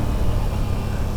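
A 2023/24 Aprilia RS 660 parallel-twin motorcycle engine drones steadily and loudly at speed, a constant buzzing mechanical roar in a short burst with no pauses.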